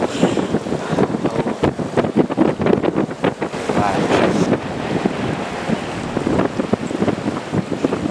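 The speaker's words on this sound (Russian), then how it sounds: "Ветер страшный, просто ураганный." Gusty, hurricane-strength wind roars across the Elbe floodplain, pounding the microphone in loud, uneven bursts that keep rising and falling without a break.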